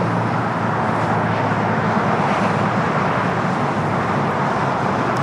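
A Cathay Pacific Boeing 777 departs from the south side of LAX, a steady, loud, broadband jet roar holding evenly throughout without pause or other voices.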